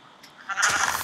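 A video game sheep lets out a single bleat that rises sharply after a quiet start and stays near and fairly loud to the end, with no talking over it.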